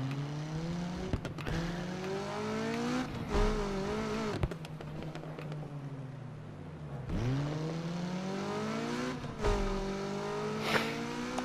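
A car in the racing game Need for Speed Unbound revs and accelerates, its engine pitch climbing and dropping through several gear shifts, with occasional tire squeal and impacts, loud and continuous with no talking.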